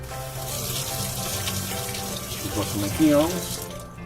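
Water from a kitchen sink tap runs steadily, close and moderately loud, with a faint shift in pitch near the end as the stream changes.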